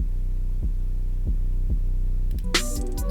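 Deep, sustained 808 sub-bass from a Splice sample pack drones under a simple hip-hop beat with steady kick-like thumps, then bright hi-hats and snares burst in near the end.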